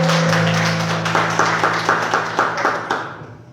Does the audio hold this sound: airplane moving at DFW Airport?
no